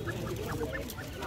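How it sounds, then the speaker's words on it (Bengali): A duck at a busy pet market gives a few short nasal quacks amid other fowl sounds and low crowd murmur. "আপনার হাঁস"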